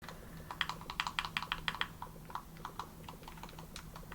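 Unmarked face buttons on a HYPR pro controller being pressed, a quick run of crisp close clicks in a cluster, then sparser taps, quiet and with no talking.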